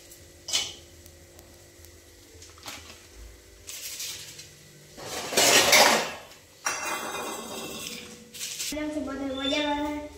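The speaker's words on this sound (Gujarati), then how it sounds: "तो હવે આપણે મેગી નાખી દીધી" Maggi noodles going into a cooking pot: metal clatters and clinks, with a louder rustling burst midway and scraping after it. Speech is heard at the end.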